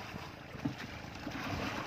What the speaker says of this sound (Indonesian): Itu mesin lap dulu, nyala aja itu.